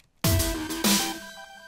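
A bright synth tone starts abruptly, with a swooping, filtered sweep and a second swell partway through before settling into a sustained note. No voices.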